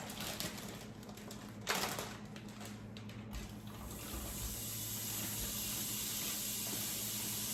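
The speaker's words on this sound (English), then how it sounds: "our pot is simmering now" A pot of black bean soup simmering on the stove gives a steady, close, watery bubbling hiss that grows slightly louder and denser after the first few seconds, with no voices.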